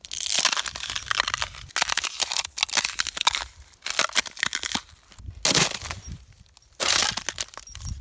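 Boots crunching over frozen ice on a forest walking trail in Prince Edward Island, a sequence of loud, close crackling and breaking bursts separated by short pauses, with no talk.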